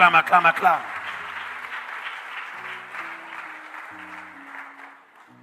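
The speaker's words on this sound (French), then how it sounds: "quelqu'un ici acclame Jésus" Church congregation at a worship service clapping and cheering to acclaim Jesus, a loud burst of applause at the start that settles into a sustained crowd roar with a low voice or music underneath.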